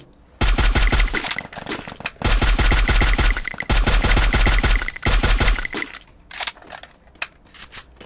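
Loud, close automatic gunfire in the shooter game Free Fire comes in long rapid bursts with brief pauses, then thins into scattered single shots toward the end.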